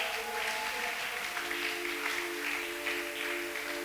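Audience applause for the press at a French-language church gathering, a steady wash of clapping with a sustained tonal hum underneath.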